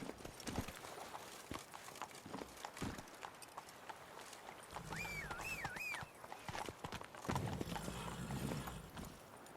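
Roach, the horse in The Witcher 3: Blood and Wine, gallops with a fast run of clip-clopping hoofbeats and a short whinny partway through, set against game ambience.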